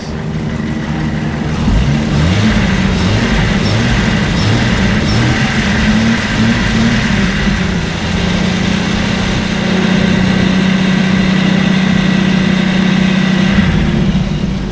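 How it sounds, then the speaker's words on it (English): A Jeep Wrangler engine with a newly repaired, leak-free exhaust idles with a steady rumble, briefly revving and settling, loud and close, with no talking. "Engine doesn't sound bad. Exhaust is good, no more leaks."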